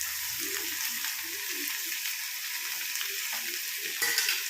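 Coconut pieces sizzle and fry in a pan of prawn curry, a steady close crackling hiss with light stirring scrapes throughout.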